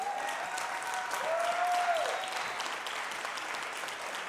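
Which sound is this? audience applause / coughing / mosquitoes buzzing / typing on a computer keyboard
audience applause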